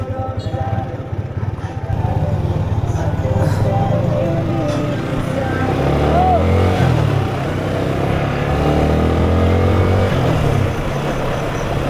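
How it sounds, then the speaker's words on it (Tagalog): Motorcycle engine running smoothly while riding, the engine on synthetic oil, a steady continuous drone with some traffic noise around it. "Ang smooth manakbo ngayon ng aking makina oh"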